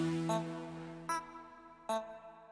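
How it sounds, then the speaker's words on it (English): A pitched-up vocal chop from a self-produced song plays three short, bright sung stabs spaced about a second apart, each with a clear harmonic tone that fades quietly between hits. "It's a vocal chop that I pitch up a lot."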